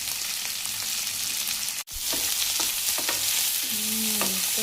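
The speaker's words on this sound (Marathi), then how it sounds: "चला कांदा टाकला आता ह्याच्यामध्ये." Chopped onion hitting hot oil with peanuts and spluttered seeds in a home kitchen pan, a loud steady sizzle with a brief dropout, then spoon scrapes and small clicks over the continuous frying hiss.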